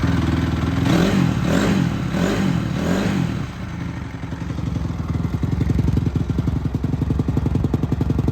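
Honda CRF250R motocross bike engine running close by, rough and loud with a few rising revs early on, then a steady fast idle chatter that continues without anyone talking.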